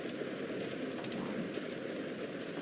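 A rain sound effect plays as a steady, moderately faint wash of falling rain, an even hiss without pauses and with no voices over it.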